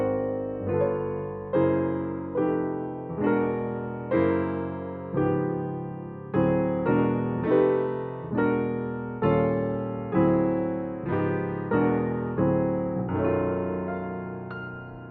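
Jazz piano playing a melody as the top note of moving chord voicings, each full chord struck in a steady, even rhythm and left to ring briefly, close and clear with no talking.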